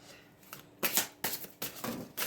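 Tarot cards shuffled in several brisk bursts, each a dry papery riffle of a second or less, close and fairly soft, separated by short quiet pauses.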